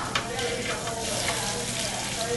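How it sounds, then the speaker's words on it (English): Food sizzles steadily on a hot skillet after being flipped skin side up, a close, continuous broadband hiss that stays even throughout. "Then just kind of flip it right over onto the skillet, skin facing up."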